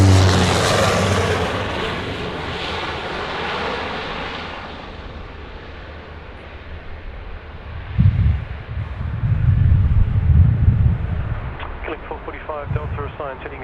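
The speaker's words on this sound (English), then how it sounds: "the Saab 340 just coming in overhead" Saab 340 turboprop airplane passing overhead near Sydney Airport, a loud propeller drone that fades away over several seconds, followed by a voice speaking and low rumbling noise.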